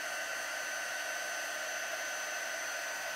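A hair dryer drying a chalk design, blowing as a steady, loud, close whoosh of airflow with no break and no voices.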